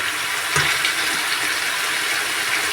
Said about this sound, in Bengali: দিয়ে দিচ্ছি সামান্য পরিমাণ পানি।